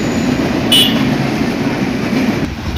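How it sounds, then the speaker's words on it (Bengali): An intercity train rushing toward a level crossing at speed, a loud, continuous rumbling roar with steady rail clatter that stays strong throughout. "দেখেন গুলির বেগে চলে আসছে আন্তনগর একটা ট্রেন"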